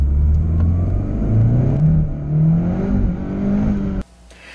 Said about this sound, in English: As we accelerate and the front wheels start spinning